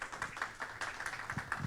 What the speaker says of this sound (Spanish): Un fuerte aplauso para Ernesto